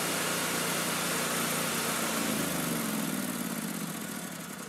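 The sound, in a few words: Kohler engine running until it runs out of fuel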